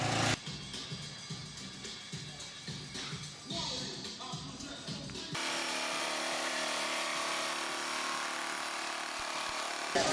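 A power saw fitted with a diamond-grit blade cuts into an aircraft cowling. Intermittent grinding and handling noises come first, then the saw settles into a loud, continuous, close-up abrasive whine to the end.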